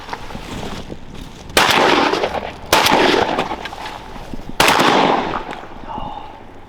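Shotguns fire at a duck on a bank during a duck hunt, three loud sharp blasts spaced a second or two apart over outdoor ambient noise, each trailing into a brief echoing decay.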